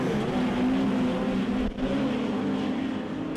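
Speedway race cars accelerating into turn one at Ruapuna Speedway, a dense roar of several engines blending into a loud continuous drone with a rising whine, close up.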